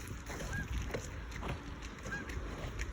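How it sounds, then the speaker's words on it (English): Geese honk faintly a couple of times in the distance over steady outdoor background noise during a Sunday nature walk, with no talk. "It's geese galore."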